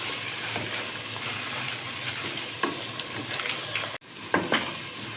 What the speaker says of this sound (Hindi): नाज़रीन आलू हमारा फ्राई हो चुका है।